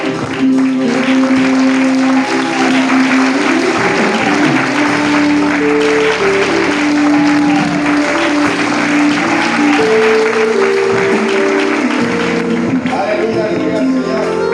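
During a united church vigil, a congregation claps for the Lord in dense, continuous applause, loud and steady under ongoing worship music and a speaking voice.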